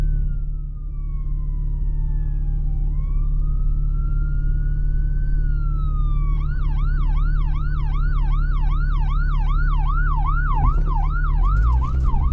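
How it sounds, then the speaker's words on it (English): An emergency vehicle siren, a fire truck or ambulance, passes on Curtis Road in a Calhoun, Georgia housing development. It starts as a steady falling then rising wail and switches to a fast, loud yelp, heard over a constant engine drone. "Here comes an emergency vehicle. Looks like a fire truck, an ambulance"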